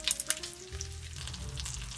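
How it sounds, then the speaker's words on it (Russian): Slices of fresh, unpeeled ginger root fry in oil in a pan alongside a few coffee beans, giving a soft, steady sizzle with a few crackles and light stirring, fairly quiet and without talk. "свежий корень имбиря, который мы нарежем прямо с кожурой и закинем жариться в масло"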